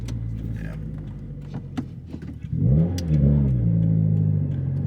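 A turbocharged car with a manual clutch idles with a low rumble, then revs up and pulls away, its engine note rising and holding loud and close from inside the cabin.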